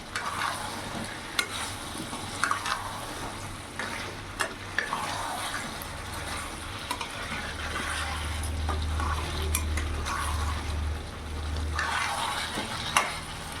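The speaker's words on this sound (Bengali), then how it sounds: "ভালো করে নাড়াচাড়া করে মিশিয়ে নেব।" Fried potatoes being stirred into a Bihari-style chicken curry in a pan, steady close scraping and stirring over a soft continuous sizzle, with no talking.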